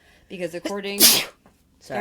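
A single sharp sneeze bursts out in the middle of a person's speech, loud and close, with talking before and after it.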